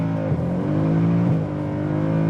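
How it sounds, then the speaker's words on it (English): A Mercedes-Benz C63 AMG in sport mode accelerating hard in second gear, its engine droning loud and close with rising harmonic pitch and brief dips where the revs shift. "second gear, I step on the throttle now, oversteer, and I'm in sports mode"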